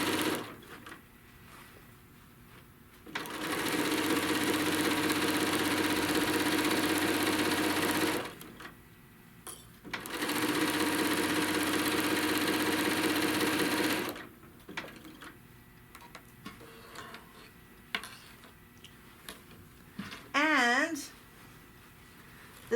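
A sewing machine stitches across a crochet bag panel in two loud, rapid bursts of mechanical whirring and clatter, each a few seconds long, separated by a short pause and followed by quieter handling noises and a voice.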